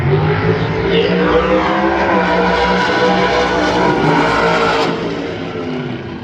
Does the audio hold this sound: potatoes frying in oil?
no